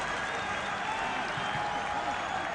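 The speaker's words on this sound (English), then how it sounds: "And a big round of applause for Mark Ruden." Stadium crowd at a 2006 Sydney FC versus Central Coast grand final applauding an injured player, a steady broad wash of clapping over crowd noise, with a faint tone and possible commentator murmur underneath.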